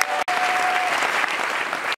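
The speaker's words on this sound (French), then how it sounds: "qui sont de les applaudir très fort." Sustained, loud applause from a convention audience cheering opposition delegates at a political gathering, a dense unbroken roar of clapping with a brief drop near the start.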